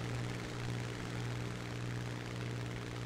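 A Typhoon Mk 1b propeller fighter droning steadily in War Thunder, a continuous faint engine hum with a low rumbling tone and no breaks.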